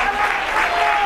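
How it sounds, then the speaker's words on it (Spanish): Football supporters of U.D. San Pedro clap for a player leaving the pitch as a substitute, a loud continuous wash of crowd applause with a steady tone underneath. "ahí está la afición de San Pedro aplaudiendo a Fernando, que se ha marchado"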